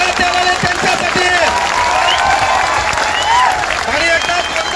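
A protest crowd rallying against online exams breaks into loud, sustained applause, dense clapping mixed with scattered cheers and whoops from many people at close range.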